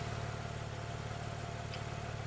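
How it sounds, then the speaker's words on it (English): Porsche 911 Turbo (997) with a 3.6-litre twin-turbo flat-six idles in a steady low, even hum, continuous and moderately close, with no voices over it. "which you can hear the flat 6 engine purring away"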